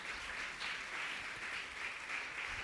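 A church congregation at a Spanish-language evening service claps together, producing a continuous, even wash of applause that sounds somewhat distant and soft, with no voices over it.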